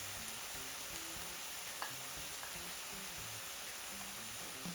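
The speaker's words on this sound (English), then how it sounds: "Saute for a minute, then we can slowly add the mushrooms." Onions and minced garlic sauteing in a hot pan give a steady, soft sizzle that runs unbroken throughout, fairly quiet, with a few faint clinks and stirring touches.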